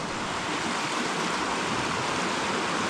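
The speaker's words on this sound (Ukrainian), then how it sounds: "Чутно тільки шум гірської річки." Steady rushing water of a mountain river, a continuous broadband roar with no pauses, close and fairly loud.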